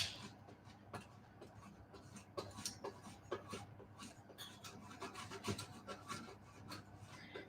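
Cheese is grated onto a nasturtium quiche, giving faint, close, repeated rasping strokes in an irregular rhythm, alone without talk.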